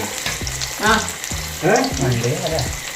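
Chicken frying in a pan for a homestyle Kerala chicken fry, a steady close sizzle with stirring clatter, a voice speaking briefly over it.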